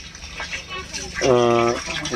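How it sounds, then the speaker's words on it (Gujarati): Water pours into a drum, a steady gushing fill with a rising tonal ring as the container fills, heard close over background noise. "આમાં પાણી ભરાઈ રહ્યું છે, તમે જોઈ શકો છો"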